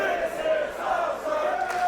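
A sold-out wrestling crowd at Pumpehuset in Copenhagen chants in unison, a loud rhythmic roar of many voices filling the venue.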